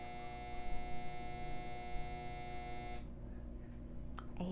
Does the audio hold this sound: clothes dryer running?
yes